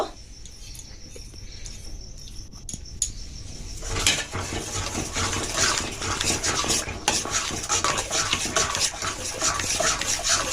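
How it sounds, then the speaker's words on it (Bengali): Ginger paste masala frying in hot oil for Kashmiri aloo dum, stirred steadily in the pan; a loud, continuous sizzle with scraping stir strokes swells in after a quieter start, with no talking. "যতক্ষণ না ছাড়বে এটা ভালো করে তেলের মধ্যে কষিয়ে দিতে হবে মশলাটা"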